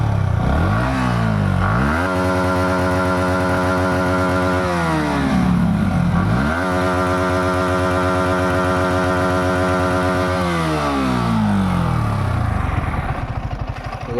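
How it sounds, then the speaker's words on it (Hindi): A Yamaha MT-15 motorcycle exhaust revs hard while the bike stands still. Engine pitch climbs and falls in repeated loud blips with a rough idle between them, heard close up with no voices. "इसके एग्जॉस्ट का साउंड कैसा है आप लोगों को सुनाता हूँ।"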